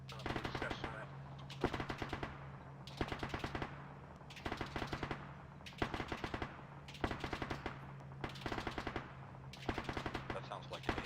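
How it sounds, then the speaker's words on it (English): AI-controlled gunfire in a military shooter video game: repeated bursts of automatic fire at a steady rhythm, rising and stopping about every second, with a constant low hum beneath. "That sounds like an AI shooting."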